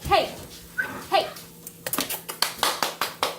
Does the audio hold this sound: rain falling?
no